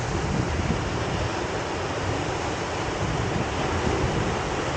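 Rough surf roars in a constant, dense wash of noise at Eco Park in Agoo, La Union, with wind rumbling across the microphone and no voices.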